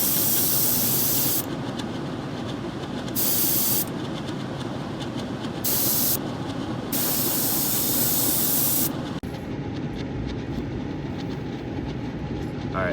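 An airbrush sprays silver paint along the underside of a glide bait, the steady hiss cutting in and out in several bursts of a second or two each, close and fairly loud over a constant background rush.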